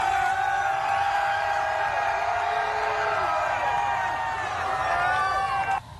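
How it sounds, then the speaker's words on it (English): A large crowd at an NBA championship parade in downtown Milwaukee roars and cheers continuously as the trophy is hoisted, a dense sustained wall of voices and whoops that drops off abruptly at the end. "Listen in as the crowd reacts to Giannis hoisting the championship trophy."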